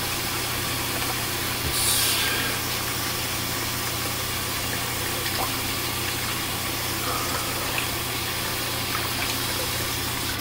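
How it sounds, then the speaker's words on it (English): Water runs hard from a tap in a shaving sink, a loud, continuous rushing hiss with faint underlying hum, close by and uninterrupted, with no speech. "Sorry, gotta run the water."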